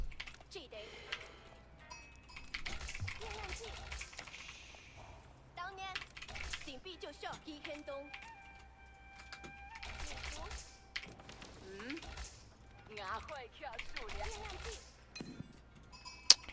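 Computer keyboard keys clatter in light, irregular bursts during a game of Age of Empires IV, quiet and close, with a person talking over them now and then.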